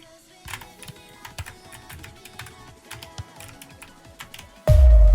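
Computer keyboard typing while playing a football video game, with light, irregular clicks and taps under faint game sound, cut off at the end by a sudden loud burst.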